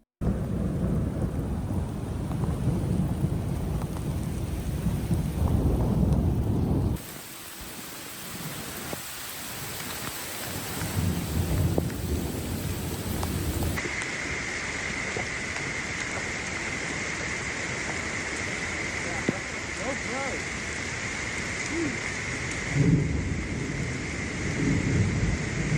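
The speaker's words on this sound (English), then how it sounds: "Their peaceful outing was interrupted when a light rain began to fall." Steady rain falls during a thunderstorm at a campsite, with continuous rumbling thunder and rain hissing on surfaces, loud and enveloping throughout.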